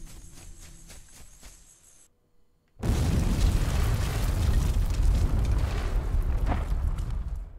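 In the SOCOM US Navy SEALs video game, a demolition charge goes off after a short quiet pause. It releases a sudden, massive boom that rolls on as a loud, sustained rumble of debris. Fainter game sounds come before it.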